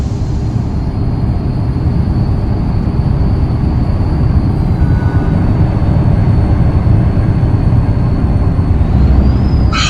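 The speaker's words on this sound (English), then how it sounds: "And we're going faster than the train." A train rolls past in American Truck Simulator, a steady, loud rumble of rail noise running without a break under the in-game truck sound, with no talk.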